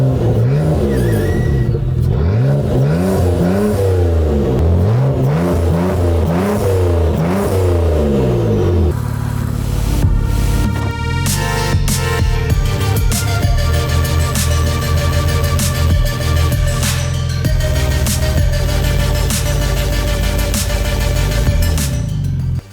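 A twin-turbo car engine revs repeatedly with rising and falling sweeps, loud and close, with no blow-off valve hiss, then settles into a steady, rough, high-revving drone.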